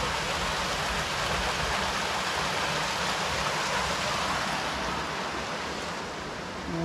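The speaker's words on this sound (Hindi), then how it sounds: "इधर कहाँ से पानी गिर रहा है" Water pours steadily from a small waterfall beside a swimming pool in a Himalayan village in Himachal Pradesh, a loud unbroken rushing wash that holds the same level throughout.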